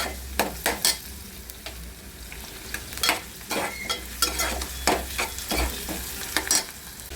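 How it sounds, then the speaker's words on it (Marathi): Chopped onion frying in a pan for a val and potato curry, under steady sizzling with repeated loud scrapes and clatters of stirring in uneven bursts, close and with no voices. "आपण कांदा टाकला आहे कांदा भाजून घेतो"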